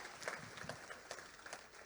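A church congregation applauds with a dense, steady patter of many hands clapping at moderate distance, quiet overall, with no clear speech.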